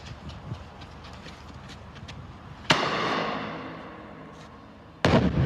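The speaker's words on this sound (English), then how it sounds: "just really bad fireworks usage" Fireworks go off nearby. Two sharp, loud bangs are spaced a few seconds apart, each followed by a long crackling, rumbling decay over a lower background of earlier pops.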